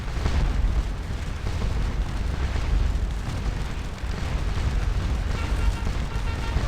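Heavy rumbling barrage from artillery in the Napoleonic strategy game Scourge of War: Waterloo, a continuous low roar of distant cannon fire and booms blending into one dense wash.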